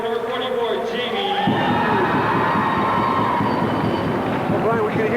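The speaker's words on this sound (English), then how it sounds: "we can hear the cheering and the coaches" A crowd cheers and roars through a gymnasium at a 1987 high school basketball championship final between Tec Voc and Kelvin in Winnipeg, a dense, loud, sustained wash of voices. A busier burst of shouting in the first moments settles into steady crowd noise.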